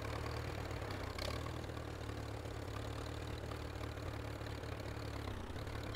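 A tractor engine idles in the game Teardown, a steady low, throbbing rumble with a faint knocking pulse that runs evenly throughout without change.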